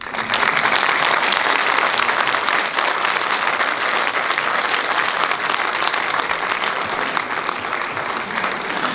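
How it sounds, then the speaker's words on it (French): An audience breaks into loud, sustained applause, dense clapping filling the room evenly from start to finish with a faint crowd murmur. "Applaudissez-vous."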